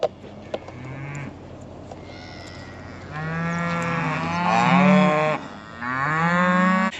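Cattle moo loudly on a farm on calf weaning day, several long drawn-out bellows from cows and calves, one after another and close by, with no talk.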